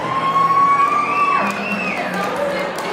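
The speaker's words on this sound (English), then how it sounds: "another round of applause." Wedding guests clap and cheer at a fall mountain-resort reception, a short burst of crowd noise with a few high whoops over a steady background.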